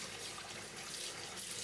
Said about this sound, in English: I'm going to lower that water a little bit so you guys can still hear me